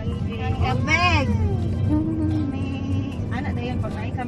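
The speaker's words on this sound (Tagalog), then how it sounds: "Kambing!" A goat bleats loudly and close by at a camp in the Philippine countryside, one wavering cry followed by shorter bleats, with people talking in the background.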